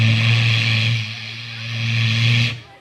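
A man mimics an aeroplane with his voice, holding a steady low droning hum with a high whine above it for a few seconds, loud and close, then cutting off abruptly.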